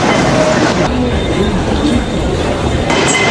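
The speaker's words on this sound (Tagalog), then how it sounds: "Ayan na yung train." A train pulls into a Hong Kong station, a loud, close, continuous rumble with rail noise filling the whole stretch, and a voice is briefly heard over it.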